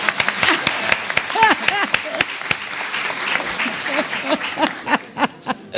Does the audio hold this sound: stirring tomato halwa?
no